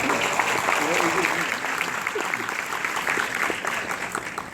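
Audience applause welcoming a speaker at the opening ceremony of the 2017 KTA taekwondo dojang expo, steady dense clapping throughout with a voice briefly audible over it.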